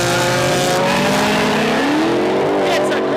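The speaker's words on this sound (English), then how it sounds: "First up, we got the bad JZ Supra. He's going to line up against the 55 Chevy." A JZ Supra and a '55 Chevy launch side by side at a no-prep airstrip drag race, engines roaring loud and close with rising revs and tire squeal under a commentator's voice.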